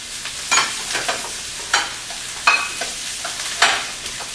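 Bok choy leaves and bean sprouts are stir-fried in a wok, with a soft sizzle under repeated scraping tosses of the spatula coming in uneven bursts about every half second to second.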